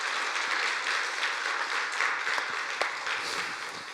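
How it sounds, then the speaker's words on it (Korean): A church congregation at a Sunday service gives steady, dense applause for the women's mission group after their hymn, a continuous wash of clapping that holds even throughout. "우리 여선교회에 감사하다고 박수 한번 할까요?"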